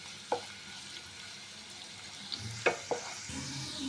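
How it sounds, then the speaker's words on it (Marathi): Chopped onion frying in hot oil until lightly golden, a quiet soft sizzle with scattered stirring scrapes and clicks of a spoon against the pan. "कांदा हलकासा सोनेरी होईपर्यंत भाजून घ्यायचा आहे"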